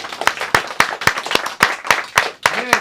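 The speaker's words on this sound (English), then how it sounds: "Clap it up" An audience claps together at the close of a live hip-hop talk show, the sharp hand claps rising and falling in a rough rhythm, with a voice breaking in near the end.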